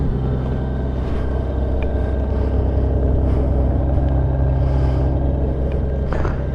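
A cold 2002 Honda GL1800 Goldwing motorcycle engine runs steadily and loud up close, a continuous low rumbling idle that never lets up.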